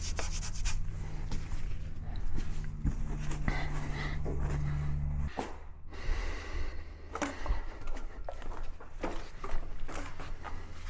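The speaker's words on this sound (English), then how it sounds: "just working that in with the wire wool, and then again old microfiber just to buff it off" Fine wire wool working metal polish on trim of a 991.1 Porsche Carrera S, a steady scratchy rubbing with irregular strokes and brief pauses, close and moderately loud with no talking.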